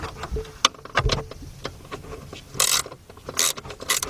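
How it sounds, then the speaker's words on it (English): Ratchet wrench clicking on an 8mm or 5/16 bolt under a 2002-2005 Ford Explorer during shift cable replacement; sharp mechanical clicks come in short bursts with gaps, close and fairly loud, with no talking. "Let's get this bolt out."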